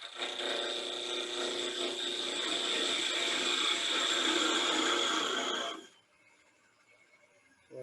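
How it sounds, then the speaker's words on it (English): A thin parting tool, about a sixteenth of an inch wide, cuts wood spinning on a lathe, making a steady, bright, loud scraping whine that stops abruptly near the end, leaving a quiet hum. "we're gonna take this thin parting tool, about a 1/16 of an inch."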